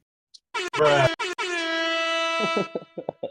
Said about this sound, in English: Harmon, give me some like fucking air horns or something for that.